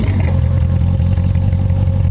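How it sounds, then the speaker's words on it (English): An Audi RS7 tuned to about 800 horsepower and fitted with a full Armytrix valved exhaust, valves open, gives a loud, close, steady low engine rumble at idle to light revs, with no talking. "We gotta open those valves up and give it a few revs."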